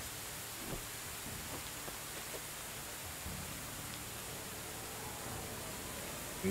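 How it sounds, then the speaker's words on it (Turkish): Rain falls softly in the medieval village-building game Medieval Dynasty, a faint, even hiss with scattered light taps and no voices. "Yağmur yağıyor ya."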